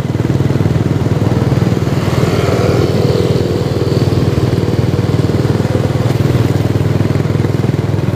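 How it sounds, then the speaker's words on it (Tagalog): A Trevi pile boring machine drills at a construction site for an elevated rail guideway on West Avenue, Quezon City, giving a steady, loud, continuous mechanical engine drone with a rhythmic clatter throughout and no speech. "At ito yung pile boring machine ng Trevi."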